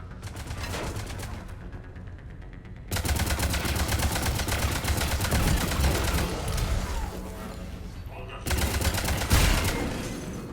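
Turret firing in Mass Effect 3: loud, sustained rapid automatic fire runs almost continuously, broken by a short lull near the start and a brief dip before a final burst.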